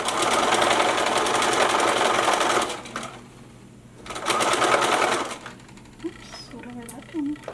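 A sewing machine stitches a dress neckline in two close, rapid bursts of steady mechanical chatter separated by a pause, then quieter handling noises.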